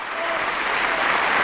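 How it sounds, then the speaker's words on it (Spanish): Dense, steady applause played during a radio interview about the Carnival galas, a brief continuous wash of many clapping hands at even loudness. "y aquí están los aplausos"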